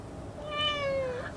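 A single clear cat meow rises and falls over about a second, moderately close, over a faint background hiss with no talking.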